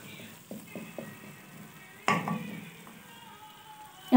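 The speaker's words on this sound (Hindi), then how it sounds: "अब मैं अच्छे से चिकन की भुनाई करूँगी" Chicken karahi fries in oil and is stirred, giving a soft, close sizzle broken by a few light spoon taps and one sharper scrape against the pan.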